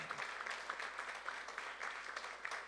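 A church congregation at a Korean youth worship service applauds, a steady faint wash of many hands clapping at a distance with no clear beat.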